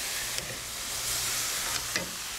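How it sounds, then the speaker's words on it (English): Tofu sizzles steadily in a hot pan, a broad close hiss with a few light scrapes of stirring. "it's gonna sizzle a bit"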